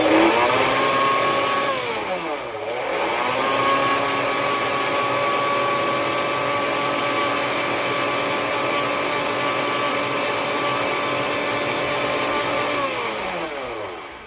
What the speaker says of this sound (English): about 15 seconds on a high-speed blender